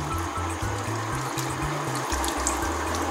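White wine pours from a glass into a pot of Portuguese cod stew (caldeirada de bacalhau) with olive oil and salt, giving a steady close trickle and splash over low cooking noise, with no talk.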